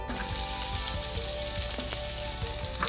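Omelette fillings frying in oil in a hot pan, a dense, continuous sizzle with faint crackles, steady and close, with no talking.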